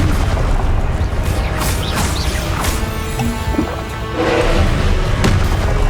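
Confringo blasting spells go off in Hogwarts Legacy, a dense run of booming impacts and crashes layered over continuous game noise.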